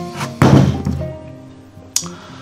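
A large knife drives down through a pumpkin held at its base with one hand, giving a single loud, close thunk that rings off briefly, followed by a quieter knock a moment later.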